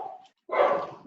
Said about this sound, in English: I've got a happy puppy.